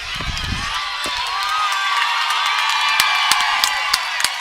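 A football crowd at a high school game between Blue Springs and Rockhurst cheers and shouts steadily, a broad roar with scattered whoops and claps, fairly loud and continuous.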